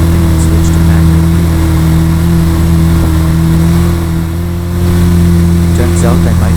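A car engine in the Roblox game holds a steady droning hum, apparently stuck in a manual gear at about 40 km/h, with a brief dip in level partway through.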